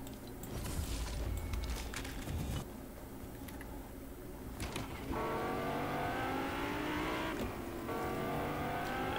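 A car driving in the Fortnite video game: a steady engine drone with revving that rises in pitch midway, continuous and moderately loud, mixed with game effects and no speech.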